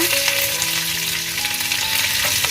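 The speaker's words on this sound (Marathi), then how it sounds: "त्यांना आपल्याला एक चम्मच राई घालून घ्यायची आहे लसूण कढीपत्ता" Mustard seeds, garlic and curry leaves fry in a couple of spoons of hot oil, giving a loud, dense sizzle with crackles and brief popping tones throughout, without any talking.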